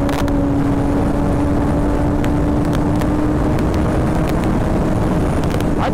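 Suzuki GSX-R 600 motorcycle cruising on a highway, loud continuous engine hum with heavy wind roar and a steady tone, no talking.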